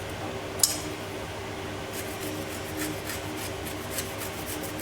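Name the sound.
zesting a lemon on a grater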